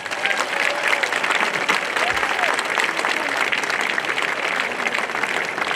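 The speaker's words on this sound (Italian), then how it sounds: "Un grande applauso." Big audience applause at an outdoor concert opening the season in Bodoni, a dense steady roar of clapping from a large crowd that keeps going without a break.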